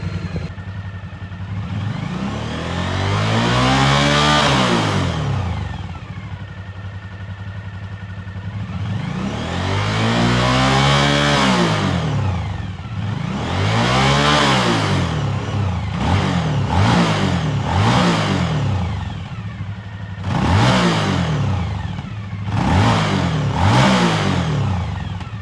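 A new motorcycle engine revs repeatedly, climbing and dropping in long swells, then in several quicker blips near the end, loud and close with idle between.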